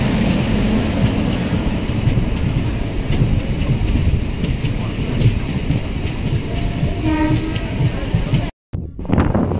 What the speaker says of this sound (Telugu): సో ఫ్రెండ్ వచ్చేసి ట్రైన్ దిగువమెట్ట స్టేషన్కి అయితే ఎంటర్ అవుతుంది.